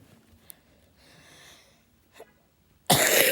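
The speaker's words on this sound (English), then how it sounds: "why are you coughing?" A cartoon character coughs, with a faint earlier hack and scuffles, then one loud, sharp burst of coughing near the end.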